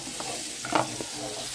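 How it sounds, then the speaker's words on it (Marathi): Surmai fish fries in a pan with a steady close sizzle, and a brief scraping knock of a utensil sounds partway through. "चला तर आई मस्तपैकी हे मासे भाजून घेऊन दे."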